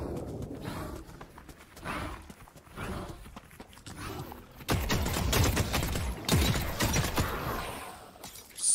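Distant gunfire in the online shooter The Cycle Frontier, scattered bursts of cracking shots and rapid volleys, faint at first and then louder and denser in the second half, with ambient game sounds between.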